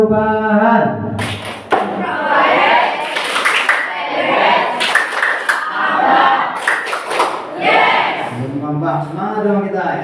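A school sociology class does a rhythmic clapping chant, sharp sets of hand claps in patterned bursts alternating with voices chanting together, loud and close in a room.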